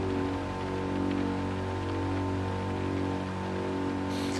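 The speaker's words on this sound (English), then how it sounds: "Yeah, it's raining at the moment" Steady rain hisses through the Gran Turismo 7 racing game as a broad, even wash of patter with a low hum beneath it, holding at moderate volume with no voices.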